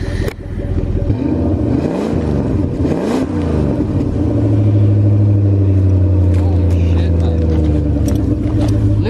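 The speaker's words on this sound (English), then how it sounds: "Let's give it a rev." A 4x4 tow vehicle's engine revs up and down a couple of times, then settles into a loud, deep, steady rumble close by.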